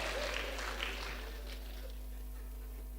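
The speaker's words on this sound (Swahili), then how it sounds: "pigia Bwana makofi" A church congregation claps together at a service, a faint, dense patter of hands that fades out over a few seconds above a steady low hum.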